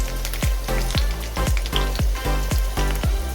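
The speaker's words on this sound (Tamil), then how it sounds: "இதை கொஞ்சம் 1 நிமிஷம் வதக்கிக்கணும் நல்லா." Green chillies and capsicum sautéing in a pan for paneer, a steady loud sizzle broken by regular stirring scrapes about every half second, with no talk.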